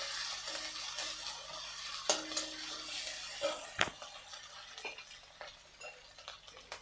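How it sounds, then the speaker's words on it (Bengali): Ginger paste is stirred into a potato and egg mixture, making soft, wet scraping and squelching strokes at an irregular rhythm over a faint background sizzle, with a couple of sharper spoon knocks. "দিয়ে দেবো আদা বাটা। এটা ভালো করে মিশিয়ে নেব।"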